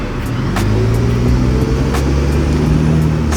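An Aston Martin DBS drives past on a Monaco road, its engine a loud, dense roar close by that swells steadily over a few seconds amid general traffic noise, with no voices.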